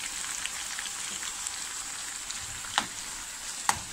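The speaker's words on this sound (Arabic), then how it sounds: "انا هنا هشوح الكبد والقوانص بمعلقتين الزبده كده" Chicken liver and gizzards sauté in two spoonfuls of butter in a pan, giving a steady, soft sizzle with a couple of sharper crackles near the end.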